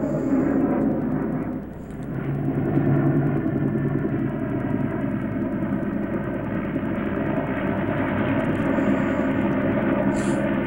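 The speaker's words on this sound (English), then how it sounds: "That wasn't the same plane that just took off." A propeller airplane drones steadily through a long takeoff, its engine roar holding loud and constant with a brief dip early on and layered harmonic hum throughout.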